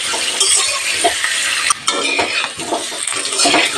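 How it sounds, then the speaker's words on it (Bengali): Small potatoes frying in a pan for aloor dum, with a spoon stirring and scraping against the metal, clinks and clatters over a constant bright sizzle. "আলু লাল লাল করে ভেজে নিয়েছি,"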